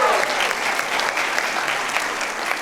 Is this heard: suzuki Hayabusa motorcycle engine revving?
no